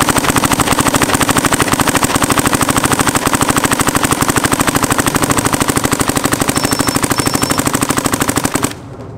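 A Dye DSR paintball marker fires on semi-auto in a long, loud, very fast string of evenly spaced shots that runs without a break for about eight and a half seconds, then stops abruptly.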